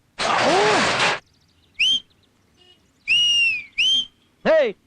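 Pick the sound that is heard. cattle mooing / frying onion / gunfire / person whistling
person whistling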